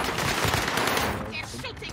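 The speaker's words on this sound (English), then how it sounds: "They're shooting." Rapid automatic gunfire rattles through a shooter video game match, dense overlapping bursts filling the short stretch, easing slightly near the end, with game sounds layered over it.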